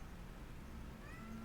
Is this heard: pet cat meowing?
yes